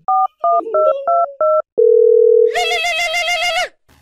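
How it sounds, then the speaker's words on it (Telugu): Five quick keypad beeps, then a long steady phone tone, followed by a loud warbling electronic ring that stops abruptly. "ఇదేంటి మళ్ళీ ఫోన్ చేస్తున్నాడు?"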